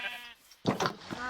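Sheep bleat in Minecraft: a faint call comes first, then after a pause a louder, nearer bleat.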